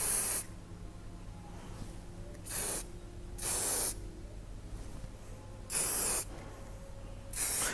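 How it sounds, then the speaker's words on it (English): Eleven Australia flexible-hold hairspray is sprayed onto styled hair in five short bursts, each a sharp close hiss lasting about half a second, separated by quiet pauses. "Just spray that into shape."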